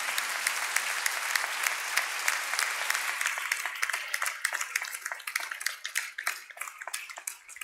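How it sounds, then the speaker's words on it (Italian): Church congregation applauding the children during a bishop's parish visit: dense, bright clapping from many hands, steady at first, then thinning into sparser individual claps as it tapers off, heard a little distant in the room. "Facciamo loro un applauso, a tutti i bambini"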